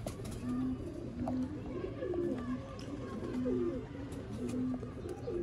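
Ferozpuri pigeons, a pair of male and female, cooing in repeated low, soft calls close by, over a busy background of ambient noise.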